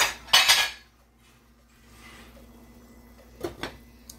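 A metal lid placed on a pot of chicken, rice and vegetable stew, a sharp clatter at the start followed by quiet, then two softer clinks near the end.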